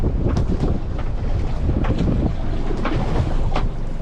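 Strong wind buffets a small boat at sea during crayfish pot dropping, a constant rough roar of microphone-blasting gusts with faint hull and water knocks, loud and close throughout.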